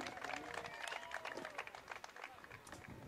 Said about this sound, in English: please give one final GSW round of applause for number 21, Trevor Dempsey